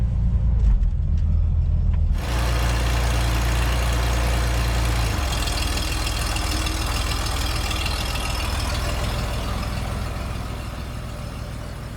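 A Chevrolet Corvair's engine starts and settles into a smooth, steady idle, a low continuous hum heard close up for several seconds without any talking.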